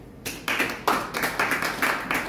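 A church congregation at a Sunday service claps hands in a brief, steady rhythm of several close claps.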